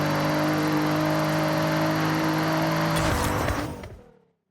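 Upgraded turbocharged car engine in Forza Horizon 6 revving hard with a steady whine, then a rough burst of revs before the sound cuts out abruptly to silence.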